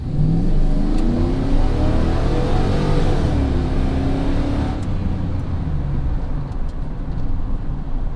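Lowered Chevrolet Sierra pickup with a swapped-in 5.3 V8 replacing the old 4.3 V6 accelerates hard, the engine roaring loudly and rising in pitch before easing off, with tires briefly breaking loose at the start and no talking.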